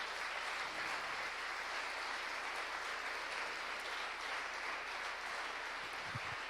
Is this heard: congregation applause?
yes